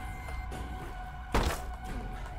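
A bomb explodes in the video game The Binding of Isaac: Repentance, a single dull, muffled thump cutting briefly through steady background game music.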